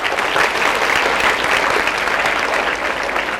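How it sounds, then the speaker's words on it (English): Loud, continuous applause from a large student audience at a school talk, a dense roar of many hands clapping at once with no pauses. "Give big round of applause for him."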